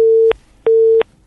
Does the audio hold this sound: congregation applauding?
no